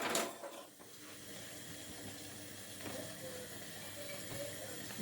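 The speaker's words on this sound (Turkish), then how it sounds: "Bu arada çayım da kaynadı." A kettle of tea boiling on a home stovetop, giving off a steady, broad steam hiss at moderate level with faint rattling underneath, continuous throughout.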